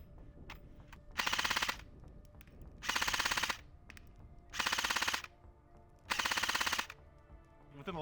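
An airsoft gun, the Lancer Tactical KR-103, runs on an 11.1 V battery and shoots 0.20 g BBs in four loud, close full-auto bursts. Each rapid rattling string lasts about half a second, with short pauses between.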